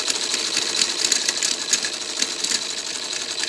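A sewing machine stitches fabric with a steady, buzzing mechanical run that continues without pause for the whole stretch, close and fairly loud.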